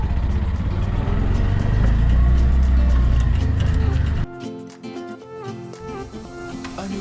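A tuk-tuk engine drones loudly and steadily while driving along a coastal road in Sri Lanka, then drops away abruptly partway through as music takes over.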